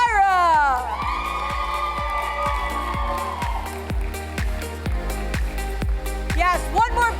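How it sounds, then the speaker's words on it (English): An audience at a developer competition applauds and cheers for the contestants, loud crowd noise with whoops over a thumping beat of background music and a rising synth sweep. "one more big round of applause for these brave souls"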